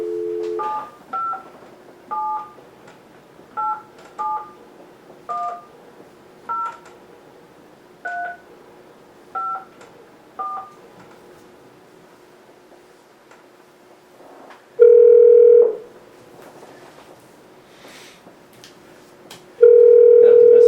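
A series of electronic touch-tone beeps as a number is dialed, followed by two long, loud ringback tones separated by a quiet pause.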